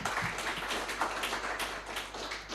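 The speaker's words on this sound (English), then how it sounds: "Another round of applause for Dr." An audience at an AI for health symposium at Mbarara University of Science and Technology gives another round of applause, a dense, continuous crackle of many hands, fairly faint and distant, with no talk over it.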